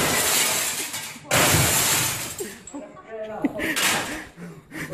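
Glass shatters loudly inside an abandoned building, with two crashing breaks close by, followed by people talking and reacting.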